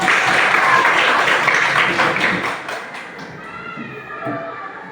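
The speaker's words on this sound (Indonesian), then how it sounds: "Jawabannya tepuk tangan dulu." Children in a classroom clap their hands together in a loud, dense burst that tapers off midway, followed by quieter scattered taps and faint voices.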